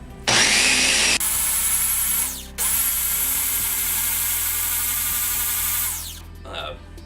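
A sealed blender grinds almonds with maple syrup for vegan almond milk, running in loud whining bursts with brief pauses between them before winding down at the end.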